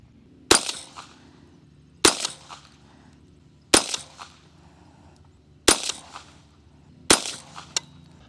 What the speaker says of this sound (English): Gonna shoot a couple 5-shot groups with these CCI Maxi Mags.